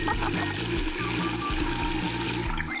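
Water gushes steadily into a small pool, a loud, continuous pouring and splashing that runs throughout.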